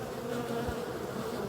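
Honey bees buzz in a close, steady drone, a dense hum of many wings that is fairly quiet and continuous with no voices over it.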